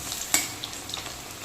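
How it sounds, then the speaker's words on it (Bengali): Fish-roe fritters for a bata fish curry crackle in hot oil. One sharp clack sounds as they are flipped, and the sizzle carries on softly with no talking. "বড়াগুলো ভাজা হয়ে গেছে, আমি একটু উল্টিয়ে দেবো।"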